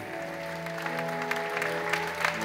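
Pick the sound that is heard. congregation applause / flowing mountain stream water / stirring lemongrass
congregation applause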